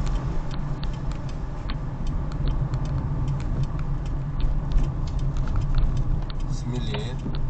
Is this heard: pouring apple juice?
no